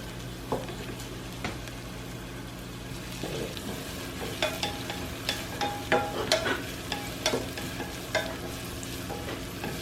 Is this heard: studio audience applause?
no